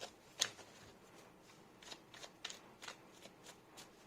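Tarot cards are shuffled for a reading in a quiet room, giving a string of soft, close riffling bursts at an uneven rhythm, with one sharper snap near the start.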